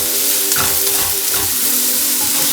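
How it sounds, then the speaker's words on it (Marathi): Onions sauté in a pan with a loud, steady sizzle and crackle, close up, with faint stirring scrapes now and then. "थोडा कांदा परतून घ्या, एक 5 मिनटं"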